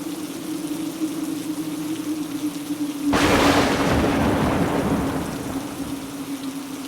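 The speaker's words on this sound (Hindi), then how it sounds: "कड़कती बिजली के साथ साथ मूसलाधार बारिश भी शुरू हो गई।" A thunderstorm on a cold winter night: a steady hum gives way to a sudden loud burst of heavy, roaring rain with low rumbling thunder, which carries on without pause and with no voices.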